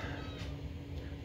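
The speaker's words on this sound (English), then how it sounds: "there's my cat meowing" A pet cat indoors gives two short, faint meows about half a second apart, set against a steady low background hum.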